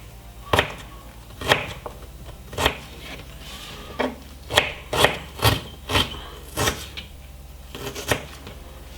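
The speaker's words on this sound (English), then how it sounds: "I'm just removing the skin from the ginger" Ginger being peeled for a pork roast, heard as a series of about a dozen sharp, close scraping and knocking strokes on a board, spaced irregularly at roughly half-second intervals with quiet gaps between.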